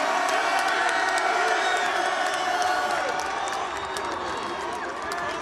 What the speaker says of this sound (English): let's give a big round of applause for UAB, the 2001 Independence Bowl champions